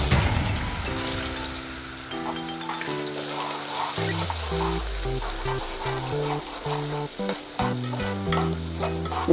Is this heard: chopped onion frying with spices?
yes